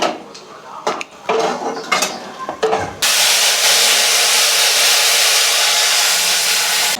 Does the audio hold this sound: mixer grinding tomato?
yes